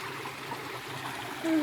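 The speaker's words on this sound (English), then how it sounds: "Do you also enjoy the gurgling sound of a stream?" A gurgling stream runs steadily outdoors near a trail, a continuous close wash of trickling water with a slight swell toward the end and no talk over it.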